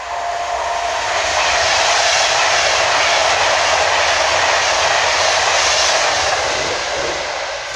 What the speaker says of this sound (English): the first passing train to pass through is going to be a Virgin Pendolino